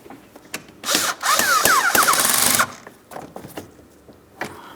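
A power drill whirs in one sustained burst of about two seconds, its pitch rising, as it snugs fog light mounting screws on a 2008-2016 Chrysler Town & Country, followed by quieter clicks and handling noises.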